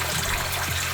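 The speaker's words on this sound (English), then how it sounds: "See the water just pouring out of it there?" Water pours steadily out of the soaked moss of a hanging philodendron as it is watered, a continuous close splashing trickle with no talk.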